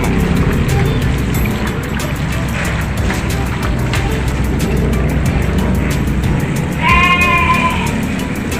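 Goats in a pen at a livestock farm, with a single bleat rising near the end over a loud, continuous engine-like rumble and background noise.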